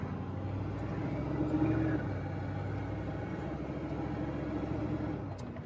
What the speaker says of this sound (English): She's moving under her own power with the Procharger installed.